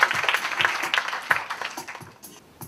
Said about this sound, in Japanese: どうぞ皆さん大きな拍手お送りいただければと思います